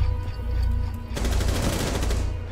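Gunfire in the video game Rainbow Six Siege: a loud, close burst of rapid automatic shots erupts after a second of quieter game background, continuing densely to the end.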